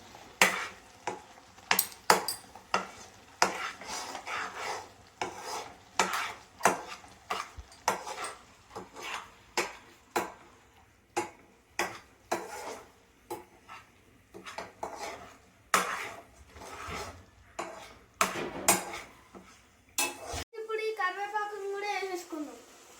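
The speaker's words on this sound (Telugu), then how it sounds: "ఇప్పుడు గైస్ గంట ఈ అల్లం వెల్లుల్లి పేస్ట్ ని కూడా బాగా మిక్స్ చేసుకోండి గైస్." Ginger garlic paste stirred in a frying pan with a spatula: rhythmic metallic scrapes and knocks against the pan over a low sizzle, about one stroke per second. A brief voice is heard near the end.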